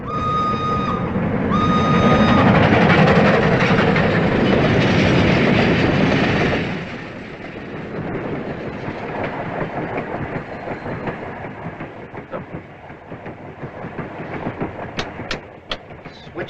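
A European passenger train running in a 1952 film, a loud rumbling roar that drops to a steady rhythmic clatter of wheels on rails, with sharp clicks near the end.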